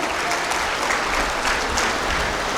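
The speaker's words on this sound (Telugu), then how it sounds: "మరొకసారి చప్పట్లతో వాళ్ళందరికీ బాగు చేసేందుకు అభినందించవలసిందిగా కోరుచున్నాను" An audience claps for school students at a yoga event: dense, steady applause from a crowd, loud and close, holding evenly for the whole stretch.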